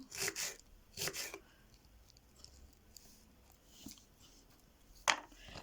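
A knife slicing fresh strawberries lengthwise for a dessert, heard as a few sharp, close cuts against a board, two early and one near the end, separated by quiet gaps with faint handling noise.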